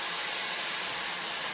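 Hoover vacuum cleaner running indoors, a steady loud broadband whooshing roar that holds constant for the whole moment with no voices.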